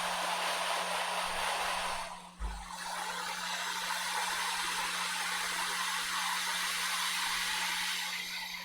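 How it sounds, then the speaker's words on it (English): A hot air rework station blows at maximum airflow and 450 degrees to desolder a part from a Dell laptop board, a steady close hiss with a low electrical hum and a brief dip partway through. "I'll turn on my hot air station at 450 degrees maximum airflow, and we're just going to blast this guy off the board"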